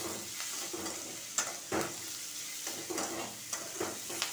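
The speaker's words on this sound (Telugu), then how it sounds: "బాగా వేగుతుంది" Food sizzles steadily in hot oil, with a few soft stirring scrapes at intervals, close and fairly quiet.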